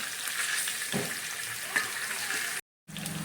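Sliced onion, green chili and ginger-garlic paste sizzle steadily in hot oil, with a few stirring scrapes and a brief dropout before the frying resumes.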